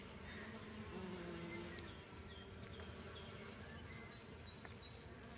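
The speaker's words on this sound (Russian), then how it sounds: "Пчелы жужжат, ну невозможно просто." Bees hum steadily around a flowering bush outdoors, a close, continuous drone with a few individual insects passing nearby, and no one talking.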